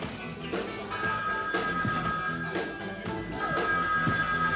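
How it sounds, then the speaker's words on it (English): A telephone bell rings in repeated bursts in a 1988 film, over a busy background of music and other sounds, fairly loud and continuous. "Her phone doesn't stop ringing."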